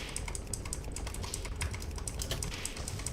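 Rapid, continuous computer keyboard typing during a World of Warcraft gaming session, with one key spammed and the space bar thumbed; dense close clicking fills the whole stretch with no talk.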